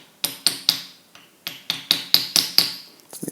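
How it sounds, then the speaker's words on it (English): A hammer taps a Pierburg 2E3 carburettor part fitted with an O-ring on a VW T25/T3, about ten light, sharp metallic knocks in an uneven rhythm, close and clear with no talking. "I'm just going to tap it slightly with a hammer."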